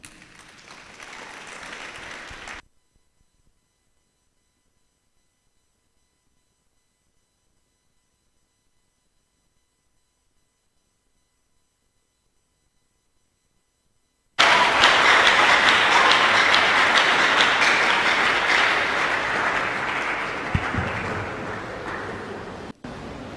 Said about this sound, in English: I didn't even have to tell anybody to keep clapping. Everybody's clapping.